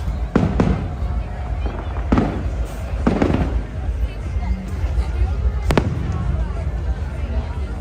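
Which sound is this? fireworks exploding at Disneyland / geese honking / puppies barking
fireworks exploding at Disneyland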